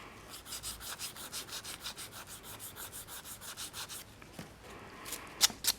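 A nail file rubbing across an acrylic nail enhancement in quick, even back-and-forth strokes, close and fairly quiet, with a pause and a few sharp clicks near the end.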